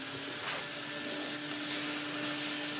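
A 1981 Numatic NV250 vacuum cleaner with a blower port runs with a steady airy roar and a constant tonal whine, close and unbroken throughout.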